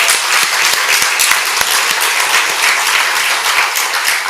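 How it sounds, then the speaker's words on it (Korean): Congregation applauding during a Korean New Year's Eve church service, steady dense clapping from many hands filling the room throughout, with no talk over it. "박수 한번 하십시오."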